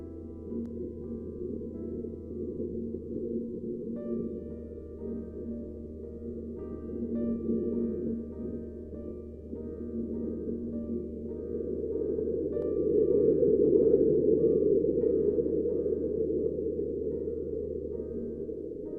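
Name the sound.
rumble recorded under the Mars surface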